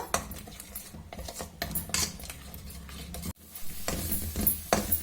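A spoon stirs butter fruit halwa with sugar in a pan, scraping and clinking against the metal in steady strokes with a faint sizzle underneath, close and fairly loud with no talking.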